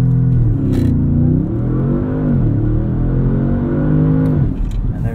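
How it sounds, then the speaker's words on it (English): The engine of a 2016 Audi S7 is held on the brake for a launch-control start. It revs up into a deep steady drone, then rises again in pitch. The sound is loud and close throughout. "rev it up."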